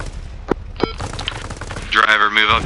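Heavy tank gunfire in ARMA Reforger: two sharp distant reports, then a louder burst of rapid firing near the end, with rumbling battle noise between the shots.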